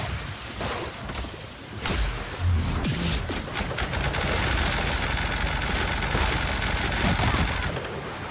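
Rapid gunfire from a weapon in The Outer Worlds, loud and close, with a dense automatic burst running steadily for most of the stretch and no talk.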